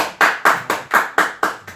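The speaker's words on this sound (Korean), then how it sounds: "지금 박수가 좀 약해. 한 번 더." Seven sharp, evenly spaced hand claps from an audience at a press conference by election lawsuit attorneys in Incheon, loud and close, in a steady rhythmic unison beat.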